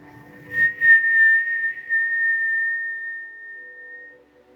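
A single long, steady whistled note, clear and fairly close, held for several seconds before fading out.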